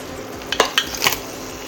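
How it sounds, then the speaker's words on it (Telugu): Crabs dropped into a pan of frying masala oil, with a few sharp sizzling bursts and stirring clatter close by, over a steady low frying hiss. "చూడండి, కొంచెం ఆయిల్ తేలుకుంది కదా, ఈ టైంలో మనం క్రాబ్స్ వేసుకుందాం."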